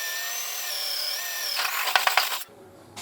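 A power drill boring a hole in steel for a custom bike build, a high-pitched whining motor that rises into a grinding, chattering bite, then cuts off abruptly with a brief clatter.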